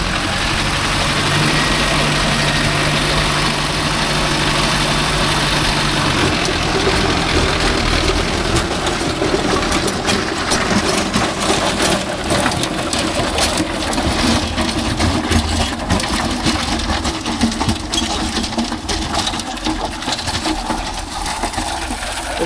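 Mahindra tractor engine running steadily at idle outdoors in a field, a continuous low rumble that stays loud throughout, with faint bird calls in the background.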